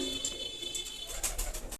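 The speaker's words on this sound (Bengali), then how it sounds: "এটি একটি আন্ডা ফুলশিরা কবুতর" A fancy fulshira-breed pigeon coos softly in a few short, repeated calls, fairly faint and alone against a light background hiss.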